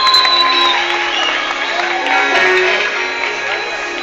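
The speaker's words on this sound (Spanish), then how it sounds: "Fuerte el aplauso" Crowd applauding and cheering for the champion at a national championship award ceremony in Cartagena, a dense, steady wash of clapping with whoops, loud and continuous throughout, with some voices mixed in.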